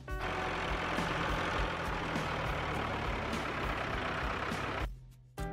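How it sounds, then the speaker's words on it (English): A steady, loud engine rumble from a tractor runs unbroken for about five seconds and then cuts off abruptly. "Tractor."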